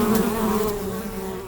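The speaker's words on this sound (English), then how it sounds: "Let's follow that bee there." A bee buzzing near flowers in a park, a close, steady droning hum that stays constant for the whole short moment, with no voices over it.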